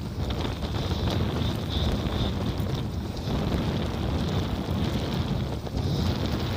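Strong headwind buffets the microphone while riding an Aventon Soltera 2.5 e-bike at about 18 mph, a continuous rough roar that fills the whole stretch without letup.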